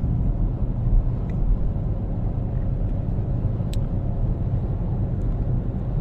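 A car driving, heard from inside as a steady low engine and road rumble that runs unbroken and fairly loud throughout, with no talking.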